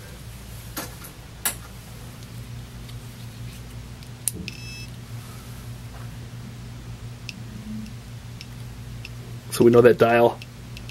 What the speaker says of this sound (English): We also have our... Geiger counter here